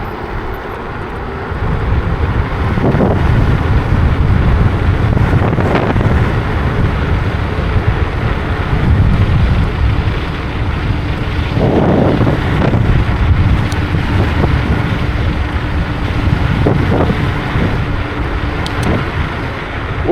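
Wind roars loudly and steadily against the microphone while an Ausom L2 dual-motor electric scooter speeds down a slope at close to 60 km/h, with faint motor whine and road rumble beneath the buffeting.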